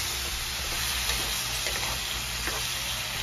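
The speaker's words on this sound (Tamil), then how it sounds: "இப்போ நல்லா நம்ம மாங்காயை நல்லா மிக்ஸ் பண்ணிக்கலாம்." Mango pieces sizzle and hiss in hot oil while being stirred, a steady frying sound with occasional scrapes.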